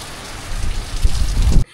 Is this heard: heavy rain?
yes